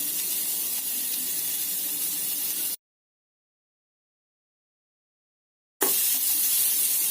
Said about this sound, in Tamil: ஒரு பெரிய வெங்காயம், குடமிளகா 1 அறுத்து வச்சிருக்கோம், அதை வணக்கிடலாம்